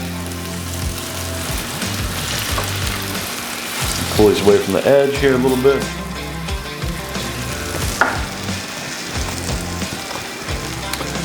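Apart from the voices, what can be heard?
potatoes sizzling on a griddle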